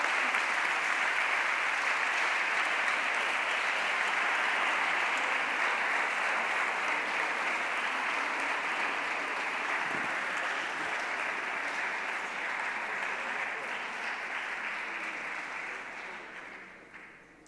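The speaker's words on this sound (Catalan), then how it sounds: "Un fort aplaudiment." Loud, sustained audience applause fills the hall at an education awards ceremony, a dense even roar of clapping that holds steady before fading out at the end.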